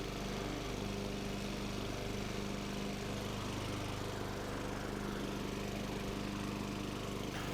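A lawn mower engine drones steadily and loudly up close while cutting a front lawn, its motor hum holding a constant pitch throughout with no talking.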